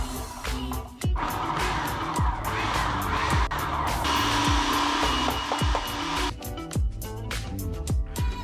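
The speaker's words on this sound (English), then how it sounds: "I find it's much easier and faster to use the grating attachment in a food processor" A food processor with its grating attachment shreds cauliflower, producing a loud, continuous motor whir with irregular clattering knocks as pieces hit the blade.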